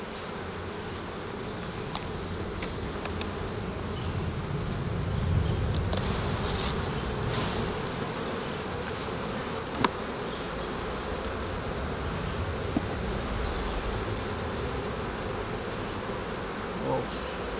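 Honeybees swarm and hum around an opened beehive during an inspection, a dense, steady buzz that fills the whole stretch with a few brief individual bees passing close.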